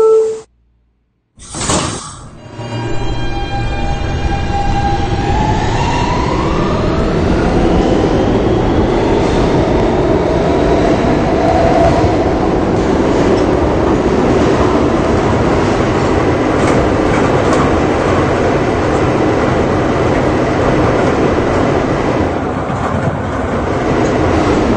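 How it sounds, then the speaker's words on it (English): An R160 subway train on the E line to World Trade Center rumbles loudly and steadily after a sharp start, wheels and motor droning continuously with faint clatter throughout. "This is a World Trade Ctr bound E-train."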